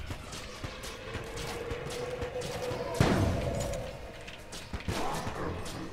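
Cannon fire from the Cannon Balrog boss in the Enter the Gungeon video game, a dense barrage of repeated shots and thuds with one heavy blast midway, loud and continuous with no talking.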